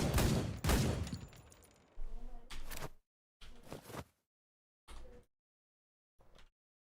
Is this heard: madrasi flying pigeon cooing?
no